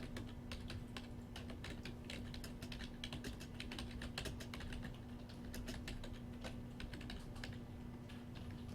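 Rapid keystrokes clatter on a computer keyboard, faint and continuous over a steady electrical hum, with no voice.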